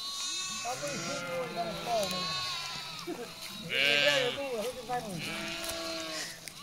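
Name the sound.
sheep bleating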